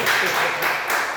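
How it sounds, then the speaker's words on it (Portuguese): A church congregation claps during a worship service. The applause is a brief, dense burst of many hands, close and fairly loud. "vamos aplaudir Jesus"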